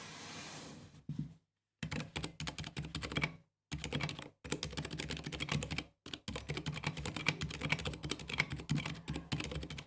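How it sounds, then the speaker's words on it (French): Typing on a mechanical keyboard with tactile blue switches (62 g), an aluminium case and ABS keycaps: bursts of quick, crisp key clicks separated by short pauses. "un petit test de son de ces fameux switch Xilinx V2 62 grammes Tactile Blue"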